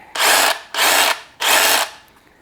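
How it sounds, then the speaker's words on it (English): A DeWalt 20V brushless cordless rotary hammer in hammer drill mode runs in three short, loud bursts of harsh rattling noise, each about half a second, separated by brief pauses. "okay, then you have your hammer drill"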